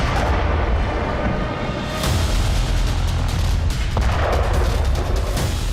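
Loud, rumbling explosions boom through a constant roar of noise during attacks on Kyiv, with a few sharper impacts standing out over the harsh, distorted background.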